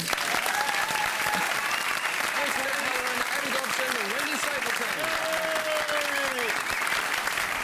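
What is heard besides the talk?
studio audience applause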